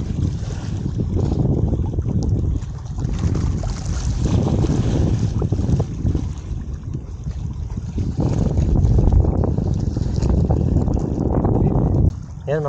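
Strong wind buffets the microphone outdoors over choppy water beside a barge while fishing, a loud roaring rumble that surges and eases in gusts, with lapping waves and faint voices now and then.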